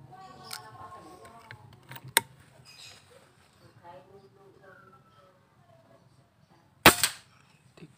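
A RAMINATOR 360cc air rifle loaded with Tiger 12 green local pellets fires one sharp, loud crack near the end, with an earlier smaller snap and people talking quietly in the background.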